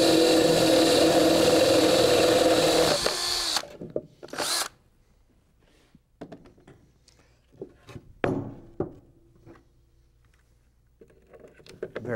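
A power drill fitted with a Kick Spade bit runs loud and steady for about three and a half seconds, then cuts out, leaving scattered light clicks and handling taps in a quiet room.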